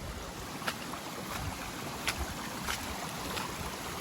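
Irrigation water flows into a field with a constant rushing hiss, close by and fairly quiet, broken by a few faint splashes or knocks.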